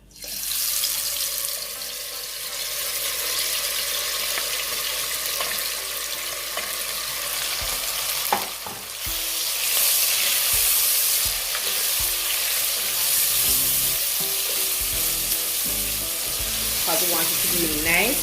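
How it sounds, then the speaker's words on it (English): Chicken liver sizzles steadily in hot oil in a pot for a Jamaican brown stew, a loud continuous frying hiss with occasional stirring clatter and spatter. "I'm just going to go ahead and start by adding my liver to my oil"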